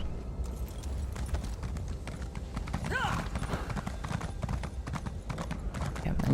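Horse hooves clip-clop steadily in Elder Scrolls Online, a rapid even rhythm running the whole time, with a brief whinny partway through under a constant game background.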